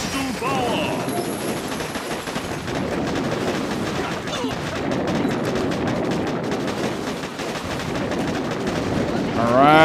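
Riflemen firing in a Boom Beach video game battle: dense, continuous crackling gunfire and explosive bursts at a steady loud level, with faint game effects at the start and end.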